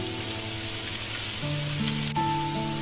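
Ground beef, tofu and green onion frying in a pan over medium heat, a steady close hiss of sizzling fat with faint stirring scrapes, no voices.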